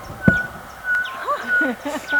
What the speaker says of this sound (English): It sounds like a squeaky wheel. That's a bird. He's loud.